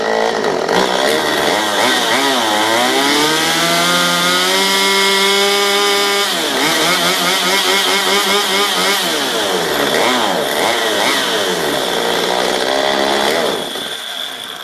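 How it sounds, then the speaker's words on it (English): A Stihl MS 192 TC chainsaw during a tune-up and carb adjustment, loud and close, its engine climbing through a wavering rev and then stumbling and cutting out before picking up again, with no talk. "try to rev it all the way up and see what happens"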